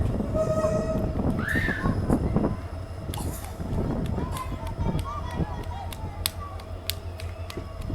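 A train running on the new Hubballi–Kushtagi railway during its first commercial journey: a loud, close rumbling run with wheel and car noise, brief horn-like tones early on, and voices talking over it.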